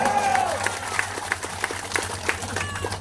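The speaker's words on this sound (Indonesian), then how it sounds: "Tepuk tangan." Scattered clapping from a small crowd at a rainy village election campaign gathering, a few sharp claps ringing out at uneven intervals with a brief voice at the start.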